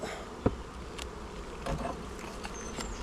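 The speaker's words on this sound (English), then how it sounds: "loads of bees on the roof" Faint buzzing of bees drifting around a roof near hives, with a few brief clicks and knocks in a quiet outdoor setting.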